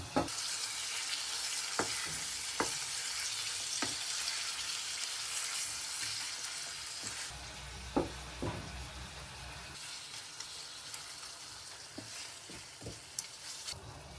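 Chicken breast sizzles steadily in a hot pan for adobong manok, a continuous frying hiss broken by occasional sharp pops and light stirring clicks.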